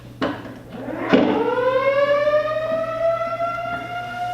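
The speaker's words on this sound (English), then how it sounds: "we have a siren to announce that we did it correctly" A siren starts after a couple of sharp knocks and winds up in pitch, then holds a loud, steady wail, sounding alone without talk.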